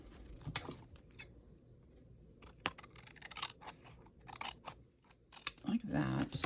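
Scissors snip through paper bag material for a junk journal, a handful of short crisp cuts in bursts with pauses between, close and fairly quiet, with faint handling noise.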